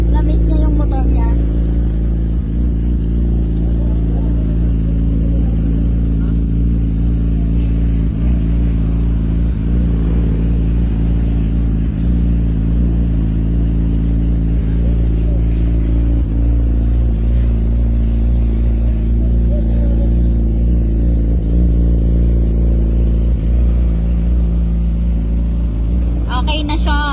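A Yamaha R6 motorcycle engine idles after an overhaul in a repair shop, a loud, steady, close rumble with a faint repeating mechanical clatter throughout and no talk over it.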